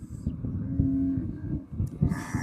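A Kankrej cow lets out a low, drawn-out moo close by, with scattered farmyard noise around it and a brief rise at the end.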